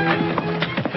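Horse hooves clip-clop in a quick, uneven rhythm against a hard surface, close and steady.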